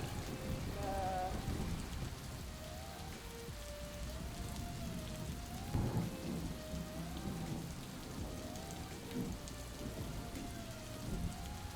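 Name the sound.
rain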